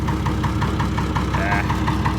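A Fordson tractor engine runs with the PTO engaged, giving a steady, close, continuous mechanical drone with a regular knocking pulse throughout.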